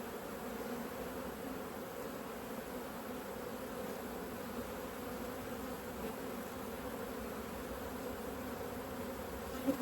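A massive honeybee colony buzzes thickly and steadily all around a beekeeper checking supers, a dense, close drone that never lets up.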